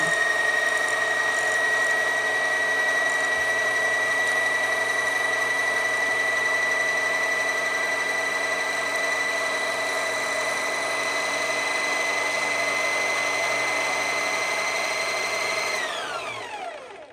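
A sewing machine winds a bobbin with a steady, even motor whine held for about sixteen seconds, close and constant, then quickly spinning down to a stop.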